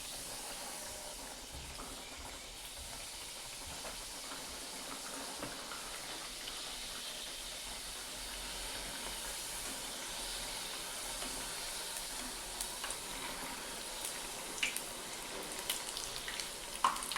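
Chaat papdi, small crisp dough wafers, frying one by one in hot oil over a low gas flame, giving a steady soft hiss and sizzle throughout with a few faint crackles and pops near the end.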